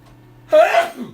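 A single sharp, loud sneeze bursts out close by after a faint low hum, then trails off quickly.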